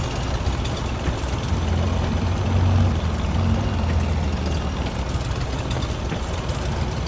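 Tractor engines, including a Farmall Super H, run in Farming Simulator 22 as a steady low diesel rumble. It swells slightly mid-clip and holds continuously throughout with no talk.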